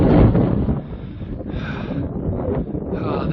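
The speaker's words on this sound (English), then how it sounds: "It's really windy." Strong wind buffets the microphone at a scenic overlook in Jasper National Park, a loud broadband rumble that gusts and eases over a few seconds, with no voices.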